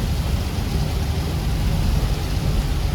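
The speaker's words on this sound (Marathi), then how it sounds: "अरे हा कंटिन्यू वाढतोय अजून पाऊस" Steady, dense monsoon rain in the Kasara Ghat on the Mumbai–Nashik route roars without pause, a broad hissing wash with a low rumble underneath, loud and continuous.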